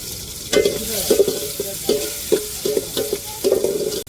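Chili frying and being stirred in a pan for crab biryani, with tomatoes already in: a steady sizzle broken by repeated scraping stir strokes at a moderate, close level, with no talking.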